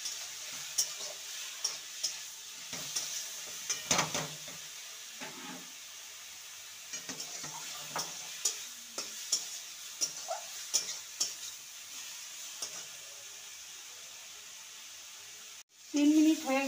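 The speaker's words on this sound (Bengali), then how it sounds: "এবার পটলটাকে 2 থেকে 3 মিনিট ভেজে নেব।" Pointed gourd (potol) frying in a pan for parwal paturi, a faint sizzle beneath scattered clicks and scrapes of stirring, close by, ending with a louder clatter.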